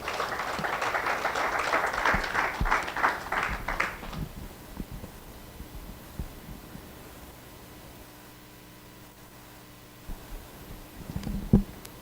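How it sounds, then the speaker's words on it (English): Audience at an African gastronomy tourism forum claps for about four seconds, a busy patter that fades into quiet room tone, followed near the end by a few scattered claps and handling bumps. "Let's give a big round of applause"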